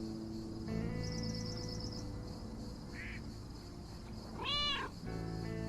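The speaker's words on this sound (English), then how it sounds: "Here, little kitty, come on." A cat meows once in the video game Lake, a short bright call over steady ambient game music, with other chirpy cartoon sounds scattered through the soft background.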